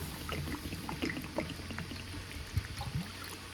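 Water poured into a pan to start sugar syrup in a home kitchen, a steady close trickle and splash running throughout with small clinks, no talking.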